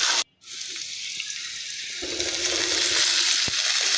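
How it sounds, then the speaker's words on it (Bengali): Potatoes and cauliflower stalks fry with salt in a pan, a loud continuous hiss with a short silent break near the start and a thicker, rushing sizzle building later. "আমি শুধু লবণ দিয়ে ভেজে নেব।"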